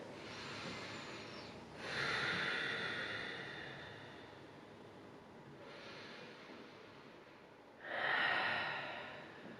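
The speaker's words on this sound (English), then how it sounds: "Let's take 3 breaths here." Slow, deep breathing held through a yoga pose, two long airy inhale-exhale swells a few seconds apart, close and soft against a steady hiss.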